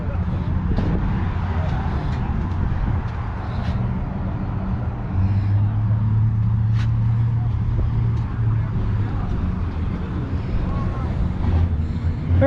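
An International truck rumbles past at a street cruise event, its low engine drone swelling midway and fading, with wind buffeting the microphone and someone talking over it.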